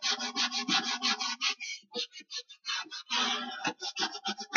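Rough 80-grit sandpaper rubbed by hand over plywood inside corners, with quick rhythmic back-and-forth scratchy strokes, close and fairly loud, and brief pauses between bursts.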